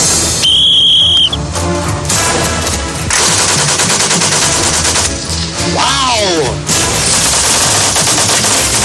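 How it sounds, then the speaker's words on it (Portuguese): A Brazilian Army machine gun opens fire on a range after a sharp whistle signal, loud and close, with sustained bursts of rapid automatic shots and brief pauses between strings of fire. "privilégio agora de atirar com a metralhadora do Exército Brasileiro"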